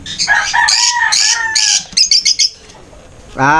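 Hen at a pet market in Angeles City giving a run of loud, close clucks and squawks, with a sharp burst of short calls midway and a brief cackle at the end.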